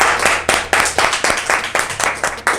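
Rhythmic clapping for a man, sharp hand claps near and loud in a steady beat of roughly three per second, with no talking over them.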